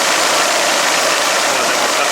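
A Daewoo Lanos 1.6 DOHC engine idles unevenly, giving a loud, close, noisy running sound that stays steady for a couple of seconds.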